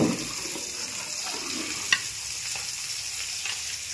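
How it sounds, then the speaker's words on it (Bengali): Koi fish frying in hot oil gives a steady, fairly faint sizzling hiss with a few soft clicks and one brief sharp pop partway through, with no voices. "আর এখানে দেখো মাছ ভাজা হচ্ছে, কই মাছ।"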